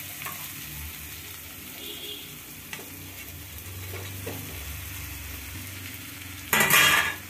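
Cooked rice frying in a pan with grated raw mango for a mango pulihora, steady soft sizzle with scattered spoon scrapes and taps, then a sudden louder burst of sizzling near the end.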